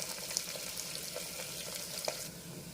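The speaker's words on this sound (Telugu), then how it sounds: "రెండు ఎర్రగడ్డలు ఇవి కూడా బాగా గోల్డెన్ కలర్ వచ్చే వరకు ఫ్రై కానిద్దాము." Thinly sliced red onions fry in a pan toward golden brown, a steady close sizzle with faint stirring scrapes throughout, no voices.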